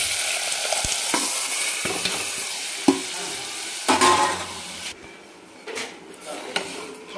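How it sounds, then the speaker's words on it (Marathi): Dal (varan) is stirred into hot tempering in a pan, giving a steady loud sizzle with scraping spoon strokes and occasional clanks against the metal. "आणि छान असं हे ढवळून घ्यायचं आहे आपल्याला"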